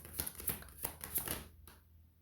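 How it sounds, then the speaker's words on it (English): A deck of tarot cards is shuffled close up and quietly, a series of soft, rapid riffling flicks in short bursts that taper off into near silence. "Bro, I shuffled this up."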